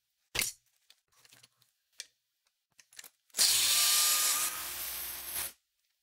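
A power drill driving screws into wood, a few short clicks and taps, then one sustained loud whirring burst of about two seconds that drops slightly in pitch near its end, close and alone without talk.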